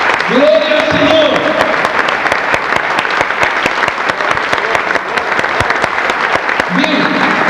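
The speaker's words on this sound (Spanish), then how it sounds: "Den un aplauso al Señor." Steady, dense applause from a church congregation praising the Lord, continuing throughout with shouted voices rising over the clapping at the beginning and near the close.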